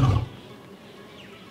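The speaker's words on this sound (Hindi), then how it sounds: "एक शेर की दहाड़ सबसे बड़ी होती है" A lion roars once, loud and close, in the wild Aravalli hills and Thar desert country; the deep roar bursts out at the start and quickly fades into quiet.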